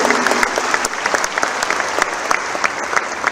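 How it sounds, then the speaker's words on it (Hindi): A large crowd at Amit Shah's political speech in Jodhpur claps and cheers, loud continuous applause with sharp individual claps standing out and faint shouts mixed in. "आप लोग खुश हो, ताली बजा रहे हो, हर्षनाद कर रहे हो"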